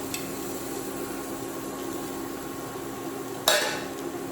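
Onion and soya chunks fry in a pan with a steady, faint sizzle throughout, broken near the end by one sharp clatter of a utensil against the pan.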